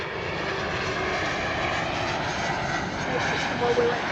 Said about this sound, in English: Got a plane coming in there.